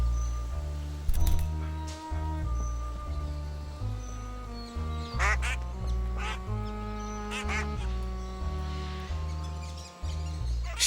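A duck quacks repeatedly, loud and close, in a wildlife setting, with a string of nasal calls and short overlapping cries against a steady tonal background hum.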